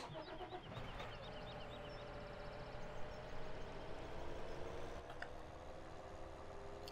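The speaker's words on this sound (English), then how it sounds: "I can't believe how quiet this tractor is." A tractor engine running in Farming Simulator 2017 drones at a steady, fairly quiet level throughout, a continuous mid-low hum with a faint higher whine and no talking.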